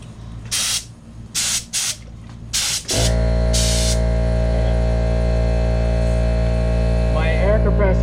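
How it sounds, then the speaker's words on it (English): Air compressor in a paint setup kicks on and runs with a steady, loud droning hum with strong low harmonics, following several short bursts of spray paint hiss. "My air compressor kicked on"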